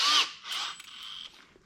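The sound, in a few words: power drill drilling holes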